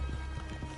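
Horses in the Red Dead Redemption 2 game clop briefly underfoot, a faint quick patter of hooves near the listener at low volume.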